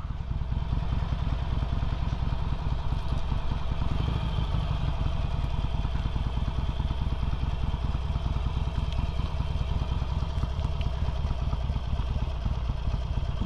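A motorcycle engine rumbles in a steady, low, continuous drone with faint clatter, heard close up throughout a ride to work, with no speech.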